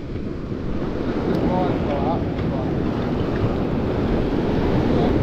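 Ocean surf at Playa Jandia beach in Fuerteventura washes in as a steady, loud broadband rush, mixed with wind buffeting the microphone and no clear talking.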